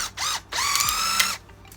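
A Hitachi 18V cordless drill whirs in two bursts, a short spin-up and then a longer run of about a second, loud and close with a rising then steady whine and no talk.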